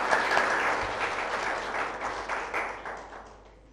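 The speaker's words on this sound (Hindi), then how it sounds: "जोरदार तालियां आप ही लोगों के लिए।" Loud applause rises from a seated audience at a food and health gathering, many hands clapping together in a full burst that gradually thins and fades toward the end.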